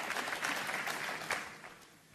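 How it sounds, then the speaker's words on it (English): Snooker audience at the 2017 European Masters final applauding a good shot, a brief patter of clapping that swells and then fades quickly, heard fairly softly. "Applause for a good shot."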